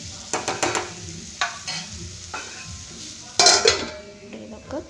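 Tamarind leaf curry being stirred in a pan, with clinks and scrapes of a spoon against the metal over a soft sizzle, in a few short bursts.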